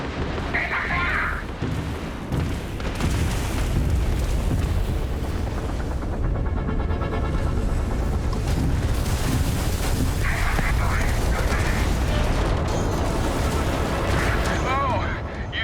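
Starship weapons fire and explosions in a space battle from the game Starfield, a dense continuous roar of booms and bursts layered over one another, with voices talking through the noise.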